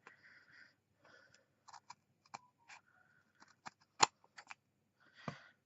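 Small crafting scissors snipping paper for a clipboard project, a sparse series of quiet, close clicks and short cuts with light rustling between them.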